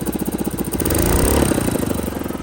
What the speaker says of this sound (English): It's got an exhaust leak, so we're going to look at that too. And yeah, it's idling